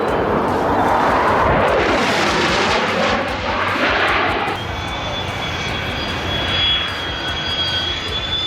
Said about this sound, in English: When pilots feel a landing is unsafe, they take off again.